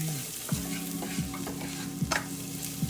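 Mussels sizzle steadily in a hot pan, a constant frying hiss broken by several clacking stirs of shells against the pan at a loose, uneven rhythm.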